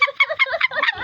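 A chicken clucks in a quick, close run of choppy calls lasting about a second, loud and with no one talking.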